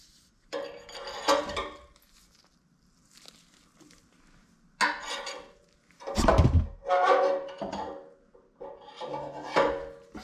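A hammer strikes a C-clamp fitted on a Porsche 911 991.1 3.4L exhaust pipe during an X-pipe install, giving several sharp metallic clanks in uneven bursts with quiet gaps between, close and fairly loud.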